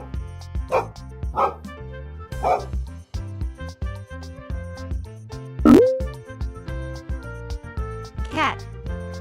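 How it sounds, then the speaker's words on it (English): A dog barks several times in short separate bursts, close and clear over bouncy children's music, with one louder bark near the middle. "Dog."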